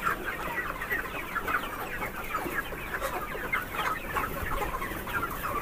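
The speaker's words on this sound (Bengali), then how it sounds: "এখানে মুরগিগুলো খুবই অ্যাক্টিভ" Colour bird chickens on a poultry farm cluck continuously in a dense, busy chorus at steady loudness, with no voices.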